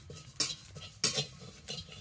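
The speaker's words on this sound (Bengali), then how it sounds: "এবার মৌরিগুলোকে দিয়ে আমি হালকা ভেজে নেব" Fennel seeds dry-roasting in a hot kadai, stirred with a utensil that scrapes and clinks against the pan in three sharp strokes over a faint crackle, close and fairly quiet.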